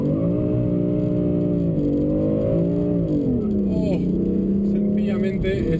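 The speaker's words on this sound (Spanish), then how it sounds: "Vamos a comprobar cómo funciona el Launch Control del BMW M3." A BMW M3 engine roars close and loud as it accelerates under launch control. The pitch climbs, dips at shifts and climbs again over a steady mechanical drone.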